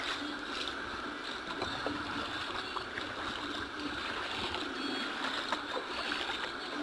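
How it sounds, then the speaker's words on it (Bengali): Floodwater pours down a waterlogged lane in Konnagar after two days of heavy rain, knee-deep in places. The rushing, splashing flow is steady and broadband, filling the whole stretch without any voices. "প্রচুর পরিমাণে জল নামছে"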